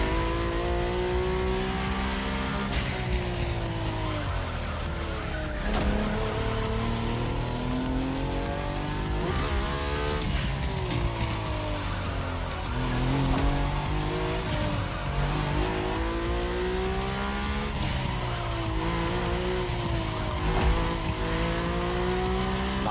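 Mercedes-AMG One race car in the video game The Crew Motorfest, engine revving loud and continuous with repeated upshifts and downshifts, tires squealing through turns, no talk.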